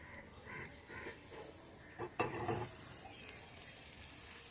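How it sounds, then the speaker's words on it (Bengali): Chopped capsicum and tomato frying in ghee in a pan, a soft steady sizzle with a brief louder burst as the vegetables go in and occasional stirring, close and quiet. "সেই ক্যাপসিকাম আর টমেটোটা আমি এর মধ্যে দিয়ে দেবো"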